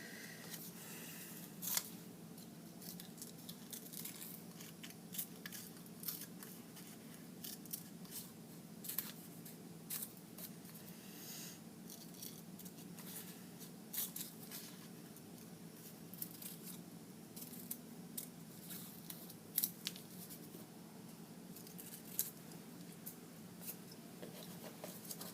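Scissors snipping in a quiet room: faint, scattered cuts that come irregularly over a long stretch, with no talking.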